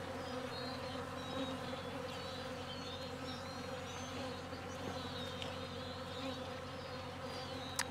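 Honey bees robbing a hive hum in a steady, dense drone, with a few individual insects buzzing close past now and then over a soft, constant background.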